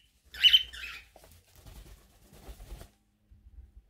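Small birds give a couple of sharp, high chirps up close, followed by soft rustling and scratchy fluttering sounds.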